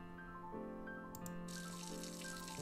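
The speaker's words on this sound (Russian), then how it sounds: "Вода из крана текла под таким напором" Tap water gushes hard into a sink in the video game Love, Money, Rock'n'Roll: a steady rushing splash swells in about halfway through, over sustained background music tones.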